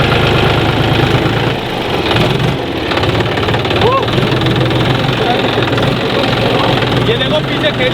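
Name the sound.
tractor engine running while ploughing a field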